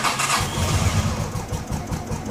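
A 1989 Honda Pacific Coast PC800 motorcycle engine cranks and fires, settling into a steady, close, rumbling idle that continues with no one talking.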